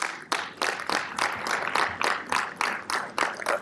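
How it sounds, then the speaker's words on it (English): Rhythmic audience clapping at the Third Pan-African Parliamentarians Summit on Climate Policy and Equity, a steady series of sharp, evenly spaced claps sounding up close and filling the short stretch without any voices. "And can we clap for them?"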